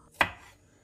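A single sharp knife chop through garlic on a cutting board while preparing hot meze, one crisp close thud that fades quickly into quiet.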